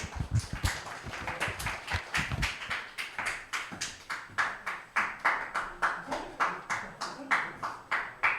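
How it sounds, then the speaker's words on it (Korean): A youth-service congregation at a church in Sanbon, Korea claps in a steady, rhythmic unison, many hands beating together at an even pace for several seconds, fairly close and alone. "박수!"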